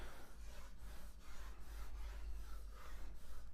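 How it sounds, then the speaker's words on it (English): Soft rhythmic scratching of a pen stroking across a Wacom graphics tablet surface, repeated strokes, faint and close, no speech. "You can probably hear my Wacom tablet scribbling along."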